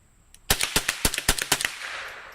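About ten rifle shots fired in rapid succession outdoors, sharp loud cracks in a quick uneven rhythm lasting just over a second, followed by a fading echo.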